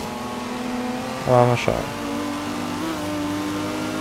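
A BMW M4 GTS drives in Forza Horizon 3 with a steady mid-pitched engine drone. A short rev rises and drops partway through, and a voice talks over it.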